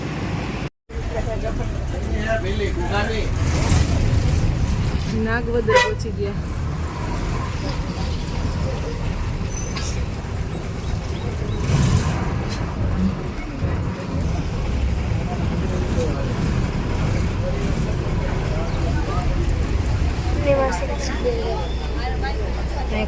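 Riding aboard a bus, a steady low engine and road rumble runs throughout, with traffic noise around and people talking over it.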